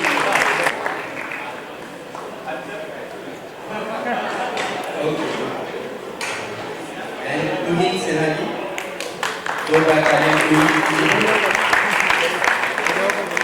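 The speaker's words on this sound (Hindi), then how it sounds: "जोरदार तालियां हरीश जी।" Audience applause rings out at a book release event for "Tera Bayaan Ghalib" as a panelist is welcomed, steady clapping rising louder toward the end with crowd noise and voices mixed in.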